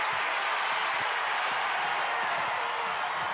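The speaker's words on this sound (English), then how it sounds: "Crowd trying to fire up this Virginia team" Home crowd at a Virginia Cavaliers women's basketball game against NC State, a steady wash of cheering and clapping filling the arena at an even level throughout.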